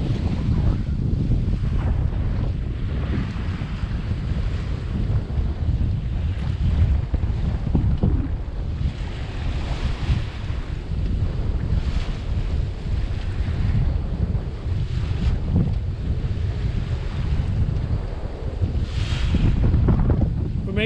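A solo sailboat moves to windward across the open North Atlantic, with constant loud wind buffeting and rushing, churning waves throughout, no voices.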